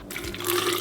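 Water pouring in a steady rushing stream, close and fairly loud, starting abruptly after a brief quiet moment.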